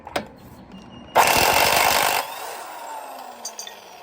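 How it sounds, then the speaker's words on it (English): A corded impact drill bursts into a loud, harsh whirring rattle for about a second, alone in a quiet workspace during a Toyota CV axle repair, then cuts off abruptly. "I got to go back to the place and grab my corded impact drill."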